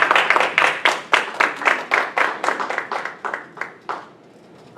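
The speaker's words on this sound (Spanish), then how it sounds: "Denle ese aplauso al Señor" A small church congregation claps for the Lord after a sermon, a few people producing distinct bursts of hand claps in a loose rhythm that thins out and fades toward the end.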